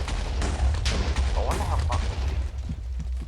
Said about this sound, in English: If I press R, it's basically explosions.